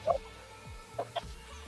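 Chicken in Minecraft clucking in a few short, moderately faint bursts over quiet game background, with a low voice murmuring briefly.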